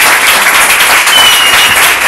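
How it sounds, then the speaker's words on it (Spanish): Loud, dense audience applause, a continuous close wash of many hands clapping for the full two seconds. "Así que pido un aplauso muy fuerte para ti"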